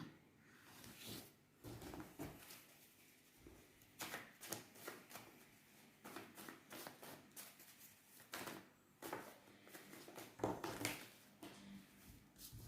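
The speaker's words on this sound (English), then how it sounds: "Shall I just pull another card for fun?" Tarot cards being shuffled and drawn, a run of crisp papery riffles and flicks in irregular bursts, close and fairly quiet, with no voice over them.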